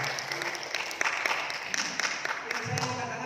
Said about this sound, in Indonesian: Tepuk tangan bagi Tuhan dulu.